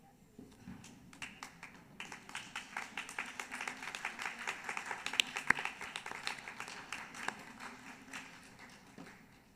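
Graduates at an evening college graduation ceremony applaud their loved ones, scattered claps that build into a dense, moderately distant round of applause and then thin out.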